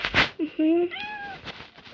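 A cartoon cat in a Toca Boca video game gives a clear, rising meow followed by a longer, wavering second meow, close and loud, with a voice talking just before it.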